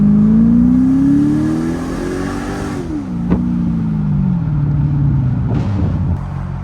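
A Cadillac XLR engine revs up with a rising, wild-sounding growl, then eases back as pitch falls, with a sharp click midway and a steady rumble trailing off.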